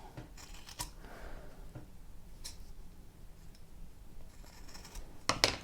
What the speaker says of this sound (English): I'm going to cut a triangle.